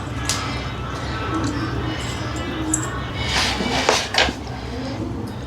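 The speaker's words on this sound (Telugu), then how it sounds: "ఈ గ్రిల్కి ఏం చేద్దామంటే మనం చికెన్ అన్ని గుచ్చేద్దామండి" Raw chicken pieces being pushed onto skewers for a charcoal grill, with clinking metal and utensil knocks over steady background noise, and a few sharper scraping clatters toward the end.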